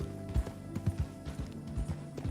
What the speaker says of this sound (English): listening to the sound of my horse's hooves on the dirt